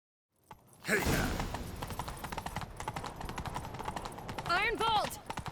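A horse gallops in The Witcher 3, with steady, rapid hoofbeats pounding close and loud. A brief vocal cry rises over the hooves near the end.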